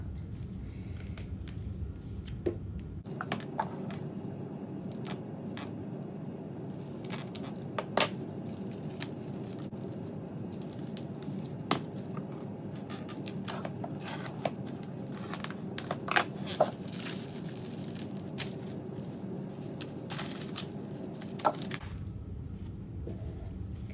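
Plastic packaging around a roll of sewing stabilizer is handled and peeled open, giving irregular close crinkles, rustles and small snaps over a low steady hum, with no talking.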